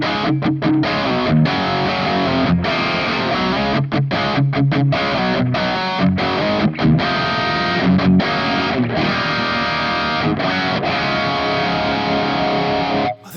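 An electric guitar runs through a Bogner amp model in Overloud TH-U with PAF-style pickups, playing heavily distorted riffs loud and dense, with rhythmic chugs and brief stops cutting the wall of sound.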